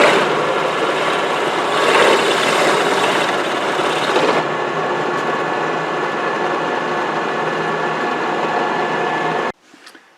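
A drill bores a second hole at about 1,000 RPM while a front winch mount plate from a KFI install kit is fitted for a Badlands 2500 winch. It gives a steady mechanical whine and grinding, loud and unbroken for about nine seconds, then cuts off abruptly.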